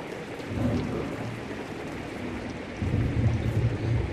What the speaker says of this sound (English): Oh yeah, it's thundering.